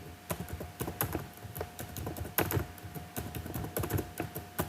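Rapid typing on a computer keyboard while entering text into PowerPoint cells, with close, crisp key clacks in an irregular, continuous patter and occasional heavier strokes.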